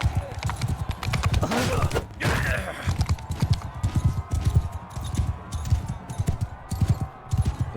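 Rhythmic hoofbeats of a galloping horse in the video game Mount & Blade II: Bannerlord, steady and fairly loud, mixed with clashing combat noises and game sounds.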